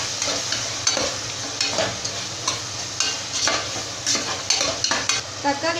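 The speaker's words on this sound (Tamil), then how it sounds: "சால்ட் ஆட் பண்ணிவிட்டு நல்லா இந்த மாதிரி வதக்கிக்கலாம்" Onion and tomato with salt sauté in a pan, a continuous sizzle broken by repeated scraping stirs of a spatula every second or so, close and clear with no voices.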